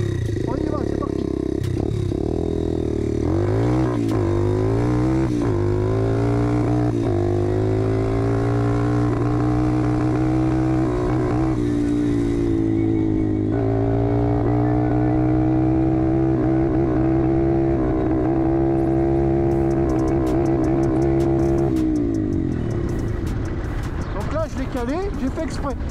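A 125 cc RFZ motorcycle engine revving up through its four gears, with loud rising and falling engine notes and shift breaks, heard up close for the whole stretch.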